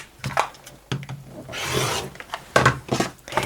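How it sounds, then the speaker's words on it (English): Fabric squares are cut diagonally against a ruler for a quilt block, heard as close, short rasping strokes with a longer steady scrape in the middle and bumps of the ruler being handled, with no talking. "Grab a ruler and cut these diagonally."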